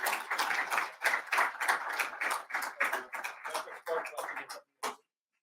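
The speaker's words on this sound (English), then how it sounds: "Let's give him a round of applause." A fairly faint round of clapping for a keynote speaker at an army conference: individual claps come through clearly at first, then thin out and stop, with a last few stray claps at the end.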